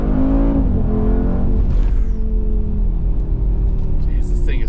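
A stock Mercedes-AMG G63, a boxy 7,000-pound SUV, roars loud and close under hard throttle, its deep engine note a steady, heavy drone with low rumble throughout.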